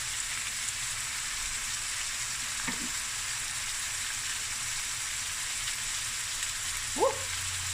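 Minced garlic and chopped green chili frying in a pan, a steady close sizzle with a couple of brief clinks partway through, no speech.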